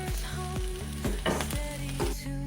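Shallots and green chilies frying in a pan with garlic, ginger and popped mustard seeds: a steady, fairly loud sizzle with repeated warbling, gliding tones over it and no speech.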